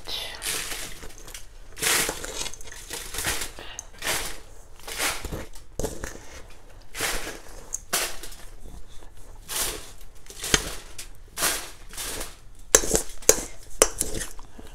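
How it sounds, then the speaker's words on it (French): Repeated scraping and crunching of a spoon working through a gritty salt crust mix for sea bream, irregular bursts close up with occasional clinks, no talking. "désolée pour les bruits de la cuillère pour vos oreilles"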